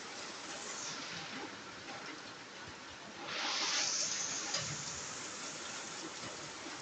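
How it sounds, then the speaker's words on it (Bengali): Steady rain hisses outdoors, a soft continuous wash that swells louder for a few seconds midway, with no voices. "বাহিরে আজ বেশ বৃষ্টি হচ্ছে"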